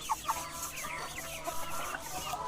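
Desi village hens on a traditional backyard poultry farm cluck in short repeated bursts, several birds near and farther off over a quiet background.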